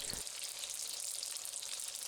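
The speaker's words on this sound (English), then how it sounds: "We fry them for about 5 minutes on each side." Steady, dense crackling sizzle of rice paper summer rolls deep frying in hot oil in a cast iron wok, continuous and fairly close, with no voices.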